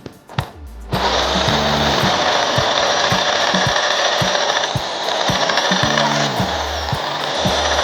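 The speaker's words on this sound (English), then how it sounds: "The secret of drilling any metal is the lubrication." A power drill bores into metal with lubrication while making a pressure bleeder for a Mk1 Ford Consul, Zephyr or Zodiac, starting after a second and whirring loud and steady, with rhythmic ratcheting clicks and a brief dip partway through.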